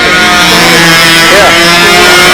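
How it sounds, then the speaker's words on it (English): A model airplane engine with a muffler runs loud and close, a sustained buzzing drone with shifting pitch as it revs. "That's a good sounding engine."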